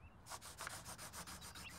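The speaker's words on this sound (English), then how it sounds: "Or like pencils on paper?" Pencils scratching on paper, a dense steady rasping with short rhythmic strokes, close and fairly quiet, with no voices.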